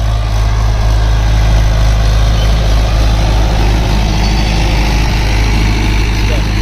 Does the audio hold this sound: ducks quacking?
no